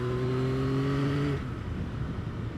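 A Yamaha XSR900 GP triple fitted with an Akrapovic exhaust holds a steady, droning engine note for just over a second, then the tone cuts away to a rougher, lower rumble that carries on to the end.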